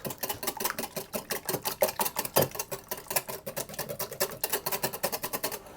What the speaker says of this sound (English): I'm going to just whisk that to break the egg up and mix it into the buttermilk